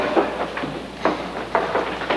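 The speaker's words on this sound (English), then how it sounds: "There's your train, now run for it." A stage sound effect of a passing train runs as a steady rumble with recurring rhythmic clacks, fairly loud, in a school musical production of The Music Man, with no talking.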